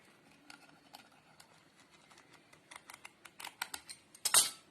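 Karanji pastry dough being trimmed with a fluted cutter on a work surface, a series of light, close tapping and clicking strokes that grow louder and quicker toward the end.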